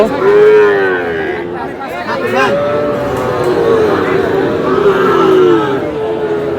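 Sahiwal breed bull calves at a cattle market in Nawabganj, Dinajpur, low repeated moos rising over a murmuring crowd and background chatter, loud and near.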